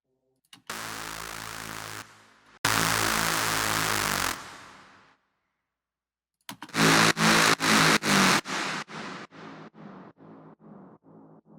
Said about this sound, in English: For the steps, we have an Avenger sound.